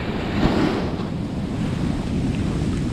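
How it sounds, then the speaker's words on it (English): Ocean waves break and wash onto a sandy beach where sand crabs are raked, a loud steady surf roar with gusts of wind buffeting the microphone and no talk. "You want to come in and let the waves help you out."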